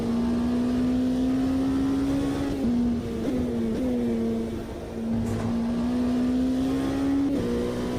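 Race car engine in the Automobilista 2 racing game, a steady sustained drone that rises slowly, dips briefly at gear changes and climbs again, loud and continuous with no voices.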